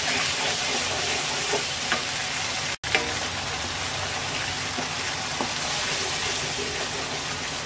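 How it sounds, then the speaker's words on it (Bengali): Spice paste fries in a pan with a loud, dense crackling sizzle that stays steady throughout, broken by occasional soft stirring scrapes, close up and with no talking. "এবার মশলাটাকে কিছুক্ষণ কষিয়ে নেব।"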